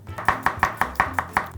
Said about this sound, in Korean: 채소를 중국 음식점 배달했을 때 많이 보는 것처럼 썰으면 돼요.